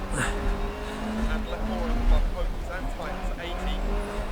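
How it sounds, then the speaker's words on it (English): Lancia rally car driving on snow in Sweden in DiRT Rally, engine revving and shifting with tyre scrabble, rising and falling steadily while someone talks over it. "This is a proper old school rally car."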